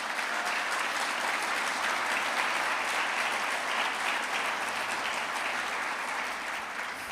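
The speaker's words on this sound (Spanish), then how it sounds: "Dale un aplauso a Él" A church congregation applauding, broad sustained clapping from many hands that stays loud and even throughout before easing slightly at the close, with faint voices underneath.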